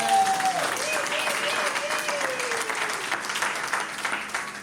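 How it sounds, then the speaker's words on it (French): Wedding guests from both families applaud loudly at a church ceremony, dense continuous clapping that fills the whole stretch, with a voice and some cheering and whistling rising over it. "Est-ce que les deux familles peuvent acclamer très fort les enfants?"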